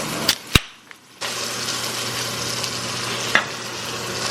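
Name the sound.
steak sizzling in a pan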